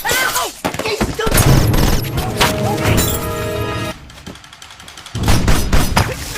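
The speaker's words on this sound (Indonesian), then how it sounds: "Begitu John melepaskan tembakan balasan" Rapid gunfire erupts in bursts in a Die Hard film scene, sharp cracks and heavy impacts crashing over one another, a brief lull, then another volley of shots.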